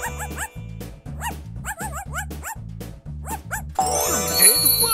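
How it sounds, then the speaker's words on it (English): A cartoon dog in the CBeebies Numberblocks video game barks and yips repeatedly in quick bursts over a bouncy musical beat, ending with a brighter jingle and whimpering yelps. "Dog."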